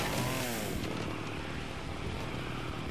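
A chainsaw in the video game Splatterhouse, a continuous buzzing engine drone that stays loud and steady for several seconds, with no talking over it.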